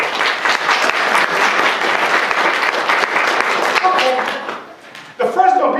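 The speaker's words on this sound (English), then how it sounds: "Clap for that little power." Audience clapping in a talk setting, a dense burst that holds for several seconds, thins out and fades, then a voice begins speaking near the end.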